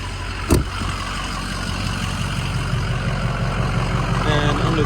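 A 2006 Ford F-350 Super Duty King Ranch pickup with a 6.0 diesel engine idles with a steady low rumble, close by. A brief sharp knock sounds near the start.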